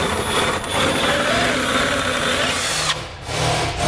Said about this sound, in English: I'm going to come back with a 7/16 drill bit and enlarge it to the final